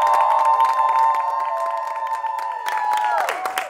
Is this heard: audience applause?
yes